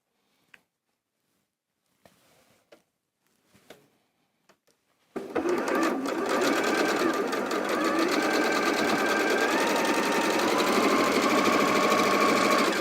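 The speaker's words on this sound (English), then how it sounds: "So I'm going to sew this one on there first." Sewing machine stitching strips of a quilt block: a few faint clicks and handling taps, then a sudden steady, loud mechanical whir running continuously to the end, close up with no talk.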